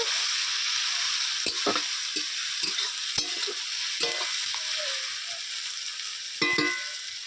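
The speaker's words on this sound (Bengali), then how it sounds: "পেঁয়াজ আর টমেটোটা আমার খুব ভালো করে ভাজা হয়ে গেছে এবারে আমি এর মধ্যে দিয়ে দিচ্ছি রসুন বাটা" Garlic paste sizzling in hot oil with fried onion and tomato for a chicken and potato curry, a steady loud hiss near the pan punctuated by sharp spatula scrapes and knocks against the metal, no voices.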